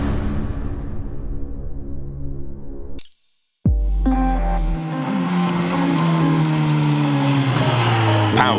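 Suzuki GSX-S1000 motorcycle with its liquid-cooled GSX-R 1000 inline-four engine, loud and close, droning steadily then briefly cutting out before roaring back with rising revs.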